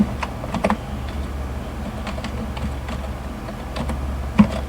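Computer keyboard typing while entering paragraph text during an HTML coding lesson, a steady patter of soft clicks with a few sharper keystrokes, faint and close with no talking.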